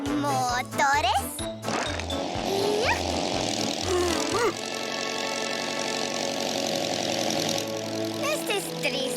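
Cartoon engines sputter and start up, their rhythmic low chugging settling into a steady mechanical drone with whistling pitch sweeps, while animated characters talk over the opening seconds.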